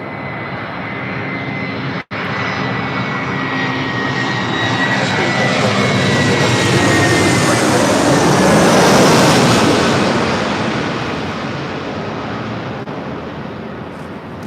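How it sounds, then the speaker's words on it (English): A Delta Air Lines Airbus A321 arriving at LAX from Detroit, its jet engine roar swelling steadily as it approaches, peaking loud overhead, then fading slightly, with a brief dropout early on and no speech. "This is Delta Airlines 908 coming in from Detroit on an A321"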